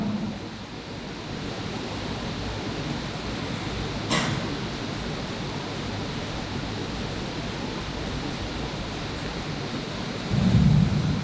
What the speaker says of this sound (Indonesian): Hujan juga nih sampai selesai.